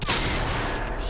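Dense, continuous gunfire crackles throughout in the zombie shooter Zombie Army 4: Dead War, loud and close, with shots blurring into a steady fusillade and no clear single report.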